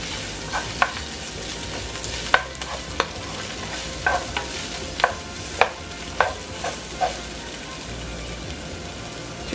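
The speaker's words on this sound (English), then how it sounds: "And I'm going to start to saute my vegetables." Vegetables sauté in a little oil for Caribbean corned beef, a soft steady sizzle broken by about a dozen sharp spoon clicks and scrapes against the pan, close and moderately quiet.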